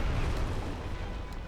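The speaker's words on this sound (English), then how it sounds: "Explosion." An explosion in the video game Dark Souls Remastered, a dense, loud, rumbling boom that fills the moment and holds steady before slowly easing off.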